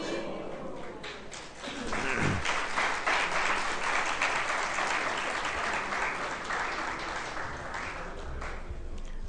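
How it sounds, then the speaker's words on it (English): An audience at a Krishna temple class claps before a kirtan. The applause swells in and stays dense and steady for several seconds, close by and crowded, with a faint voice underneath. "Why did you clap before the kirtan?"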